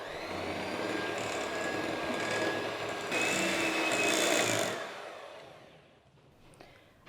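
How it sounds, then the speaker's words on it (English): Simnel cake batter of ground almonds, mixed spice, cinnamon and ground ginger being beaten with an electric mixer, a steady motor whine that holds for about five seconds and then cuts out, leaving a quiet tail. "We're going to mix all this together."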